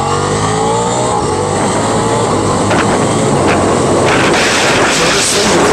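A 2023 Ducati Diavel V4 motorcycle accelerating hard onto a freeway, its engine roar loud and continuous with rising pitch, wind rush and gear shifts through the quick shifter.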